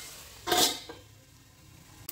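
A lid set down onto a cooking pot while vegetables fry for brown rice veg pulao, giving a single clanking metallic hit followed by a fainter clink, with a small tap near the end.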